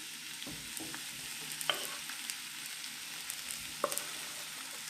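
Girolle mushrooms sizzle in a very hot pan with a steady hiss, broken by a few sharp clicks and scrapes as they are stirred.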